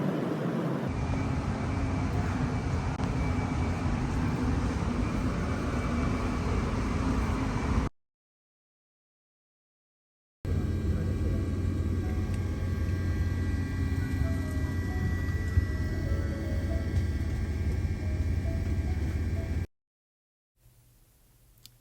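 Airplane cabin noise on a 6.5-hour flight before landing, a steady loud broadband roar and hum that twice cuts to near silence before resuming.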